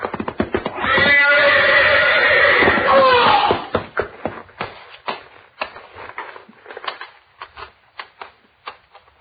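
A horse whinnies loudly for a few seconds, then shuffling hoof knocks and scattered thumps follow as it moves about in a stall, close and irregular, with no talk.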